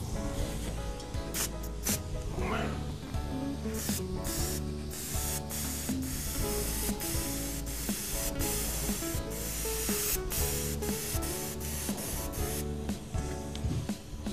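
A final coat of color is sprayed onto a leather repair, a close, steady hiss of spray broken by brief pauses and small mechanical clicks, with no talking.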